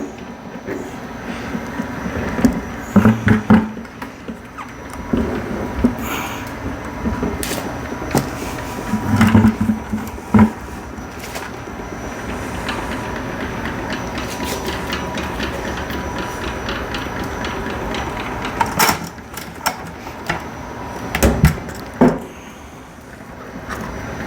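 A honey extractor spins frames of comb, giving a continuous mechanical whir and rattle with a slight shimmy, with occasional clunks and knocks over it.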